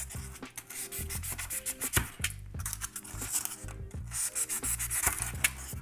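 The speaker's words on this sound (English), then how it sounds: "I'm going to start by just sort of slicing away the sides and tapering up towards the top." A blade carves and slices away the sides of a small obelisk model, tapering it toward the top, with close, repeated scraping and rubbing strokes in an uneven rhythm, occasional sharper knocks and no talking.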